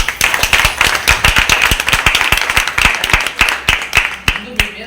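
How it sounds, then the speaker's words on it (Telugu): A women's gathering audience claps loudly and steadily throughout, dense overlapping hand claps forming a continuous burst of applause with sharp individual slaps standing out, close and full, tapering slightly at the end. "మీకోసం మీరు గట్టిగా చప్పట్లు కొట్టుకోండి"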